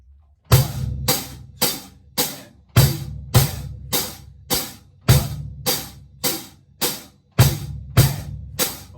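Rock beat on a drum kit: steady hi-hat strokes with bass drum hits on one, three and the and, about a dozen evenly spaced, punchy hits, close and loud with no voices.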